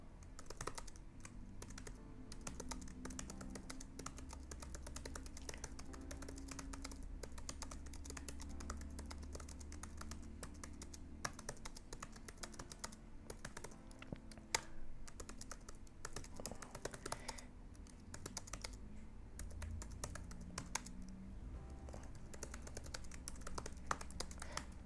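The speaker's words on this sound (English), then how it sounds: "what I'm typing right here" Keys clatter steadily on a computer keyboard while a passage from The Great Gatsby is typed out, a continuous close run of quick, fairly quiet clicks over a low background hum, with no talking.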